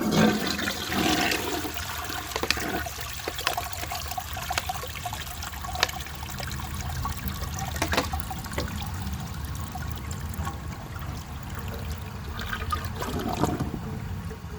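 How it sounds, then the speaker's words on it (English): A 1974 Borg Warner toilet flushes with a nearly dry bowl and a leaking flapper, giving a steady loud rushing swirl of water for the whole stretch, with gurgling bursts near the start and again near the end as the concealed jet siphons. "So now for the first flush test, let's see how it flushes with a dry bowl."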